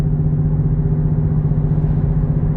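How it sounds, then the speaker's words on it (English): A steady, low Ford GT500 exhaust rumble drones on without pause, loud and close, with no voices over it. "I would think right now you'd be hearing this exhaust"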